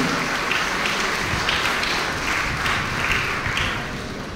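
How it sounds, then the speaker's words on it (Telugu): A crowd at a job fair in a wedding hall claps loudly and continuously, a broad dense wash of applause with no clear pauses, slightly tapering toward the end. "ఒక రూపాయి ఎవరి దగ్గర కూడా విరాళం తీసుకోకుండా దాదాపు 1200 మందికి ఉపాధి కల్పిస్తున్నటువంటి గ్రేటర్ హైదరాబాద్ బృందానికి ఒకసారి గట్టిగా చప్పట్లతో మనందరూ అభినందనలు ఆవిష్కరించాలి"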